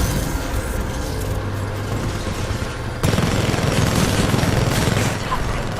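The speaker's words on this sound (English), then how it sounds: "Shooting the bastard." Rapid automatic gunfire from the video game Titanfall 2, sustained and loud, with a sharp jump in intensity halfway through as the shooting grows denser, steady game noise underneath.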